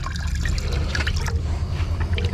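Dirty water trickles and drips steadily from a container while ash is gravity-separated from ground computer chips, a continuous close wet splashing with no talk.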